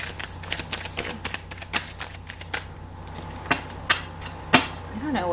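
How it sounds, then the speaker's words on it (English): Crisp, irregular tarot card shuffling: quick riffles and snaps close by, some louder slaps standing out, with no talking. "I don't know why they're just shuffling messy today."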